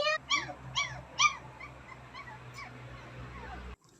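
Playful puppies whimper and yip in a few high, quick bursts at close range, then go quieter over a low steady background hum.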